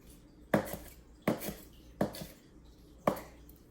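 A knife chopping green onions on a cutting board, four distinct, evenly spaced thuds, each with a short crisp tail, close and clear with no talking.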